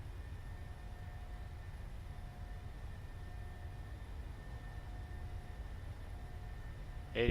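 Boeing 737-700 engines at takeoff thrust in a flight simulator, a steady low droning roar that holds constant throughout with a faint whine above it, no voices.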